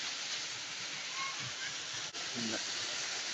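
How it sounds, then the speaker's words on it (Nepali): A waterfall in the middle of a jungle gives off a steady, even rushing hiss that holds unbroken throughout, with only a brief dip near the end. "एकदमै जङ्गलको बिच छेउमा रहेको झरना छ।"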